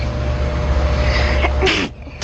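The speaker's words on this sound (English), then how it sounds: "This sixth grader can sneeze anywhere from 8 to 16 times a minute." A sixth-grade girl with a rare, incurable sneezing condition sneezes under a rumbling broadcast background, with a couple of sharp bursts near the end.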